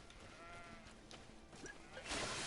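A sheep in the GreedFall video game gives a wavering bleat over a continuous game ambience, followed by a louder noisy burst at the close.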